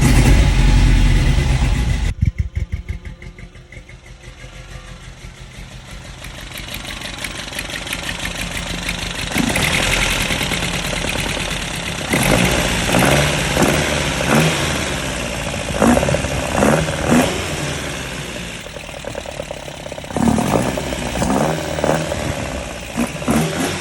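Engine of a 1981 pickup truck fitted with side-draft Weber carburetors, started with the exhaust on and left running; a steady rumbling idle with some uneven revving, loud and close throughout, no talk.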